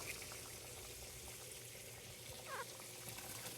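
Salted water being poured into a pot for Jamaican rice and peas, a soft continuous pouring and trickling that stays faint and close against a low kitchen background.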